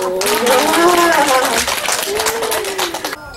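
A group of children clap together for a friend during a picture-book reading session, the applause loud and close and mixed with excited voices, fading out after about three seconds.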